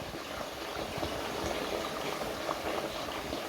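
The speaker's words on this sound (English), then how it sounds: "You see now as they are boiling, there seems to be so many bubbles." Potato chips frying in hot oil for homemade chips, a dense, steady bubbling and sizzling hiss held close and fairly loud throughout, with no voices over it.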